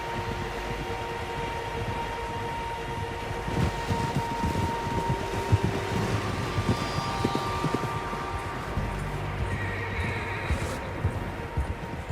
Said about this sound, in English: Tracks. Horses, quite a few of them.